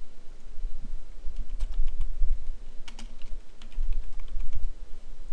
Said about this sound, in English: just type some random garble there